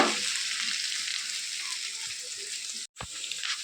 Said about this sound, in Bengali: এখন এই যে বেগুনটা হালকা করে ভেজে নেব